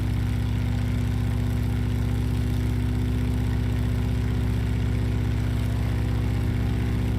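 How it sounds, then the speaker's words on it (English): Steady droning propeller airplane engine in a mail-delivery flight simulator game, a constant low hum with strong harmonic bands running unbroken and moderately loud throughout, no voices. "Sounds in this plane are messed up."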